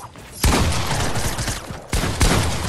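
Bursts of rapid gunfire in a shooter video game, loud and close, with a heavy volley starting abruptly, a brief lull, then two more sharp bursts near the end.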